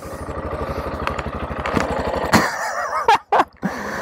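A sport motorcycle engine idles close by with a steady, rough, throbbing rhythm, then gives a few sharp throttle blips with short gaps near the end.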